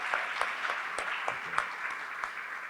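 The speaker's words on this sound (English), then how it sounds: "Round of applause." Audience applause at an evening museum discussion event, a steady wash of many hands clapping at moderate distance, continuing for a few seconds without talk.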